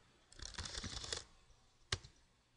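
Keys on a computer keyboard are mashed in a rapid, dense flurry of clicks for about a second, followed after a short pause by a single sharp keystroke, close and clear.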